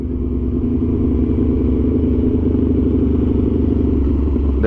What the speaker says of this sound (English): That engine braking sound like a grown man